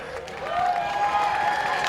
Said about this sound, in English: Cheer them on, everybody.